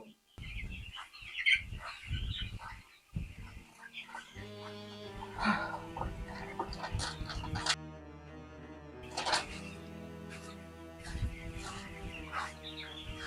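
Birds chirp and tweet in short bursts while people talk quietly nearby, with other household tones in the background.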